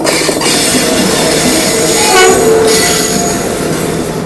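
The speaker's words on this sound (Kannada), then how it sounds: "ಇದು ವ್ಯಾಪ್ 7 ಇಂಜಿನು." A WAP-7 electric locomotive passes close by at a railway crossing, a loud, steady rolling rumble with high metallic wheel squeal that swells briefly near the middle.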